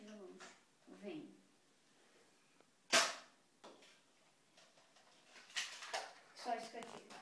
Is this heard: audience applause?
no